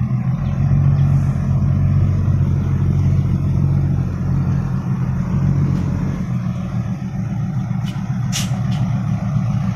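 A car approaches on a busy road as a steady, loud engine rumble builds and passes nearby, with mixed traffic noise continuing throughout.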